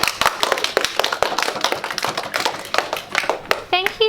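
A small school audience claps at an honours presentation, a quick burst of uneven, fairly close hand claps that fades as a voice begins at the end.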